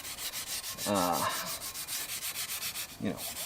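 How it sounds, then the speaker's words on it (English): Scuffing the rusty surface of a Subaru EJ25 boxer engine to give the clutch a mating pattern: steady rhythmic abrasive rubbing strokes, close and even, with a couple of brief scraping squeals. "I just want to give it a little scuff on the surface here so that clutch can"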